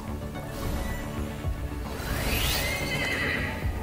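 A horse neighs loudly in the video game Punishing Gray Raven, a long whinny that rises and falls over a steady layer of game music and ambience, close and continuous throughout.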